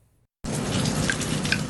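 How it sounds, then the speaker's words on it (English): Steady rain falls in a dense, even patter that begins abruptly after a brief silence and then holds constant and fairly loud, with scattered louder drops. "There is something calming about a steady rain."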